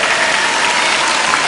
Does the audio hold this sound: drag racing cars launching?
no